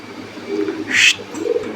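Large pigeons at a pigeon farm give soft low coos close by, with one brief, sharper chirp in the middle.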